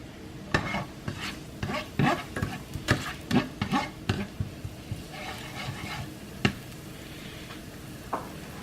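Shrimp fried rice cooks in vegetable oil in a large pan, with rapid clattering stirs and scrapes over a low sizzle that thin out into occasional single knocks.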